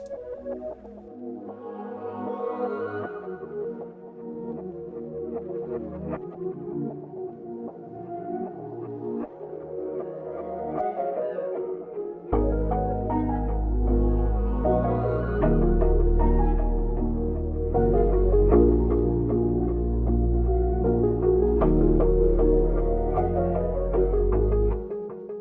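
An ambient distorted guitar melody loop with layered delays, hazy sustained notes smearing into each other, growing fuller and louder halfway through as a deep low end enters.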